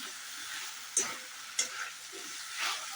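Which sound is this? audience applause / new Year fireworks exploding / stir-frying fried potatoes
stir-frying fried potatoes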